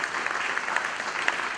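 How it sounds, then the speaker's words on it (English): An audience gives a short round of applause for an award recipient at a research event, a soft, dense patter of clapping with a few sharper claps standing out. "Let's go around of applause for him"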